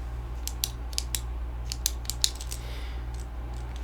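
A pen clicked repeatedly close up in a quiet room, sharp crisp clicks in an irregular series of about ten over a low steady hum.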